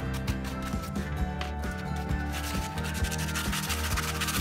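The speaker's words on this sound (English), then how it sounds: "with dust brush, just make sure it's a really soft bristle brush so you're not going to damage anything" A soft bristle dust brush sweeps across a model landform, producing close, repeated scratchy rubbing strokes in a steady back-and-forth rhythm with no speech.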